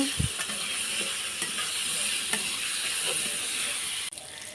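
Papaya pieces with a pinch of turmeric fry in hot oil, a steady close sizzle running throughout with a few soft clicks of a spatula, cut short near the end.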